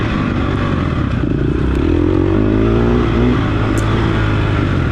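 A dirt bike engine drones and revs loudly and continuously nearby on an off-road trail, its rough pitch rising and falling.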